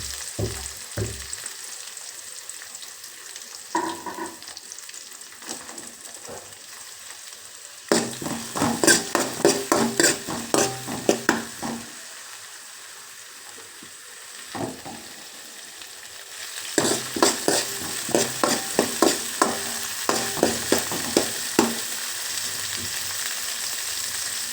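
Garlic and green chilies fry and get stirred in a pan for a Kannada beetroot palya, with steady sizzling broken by bursts of scraping strokes that come in two busy stretches between quieter frying.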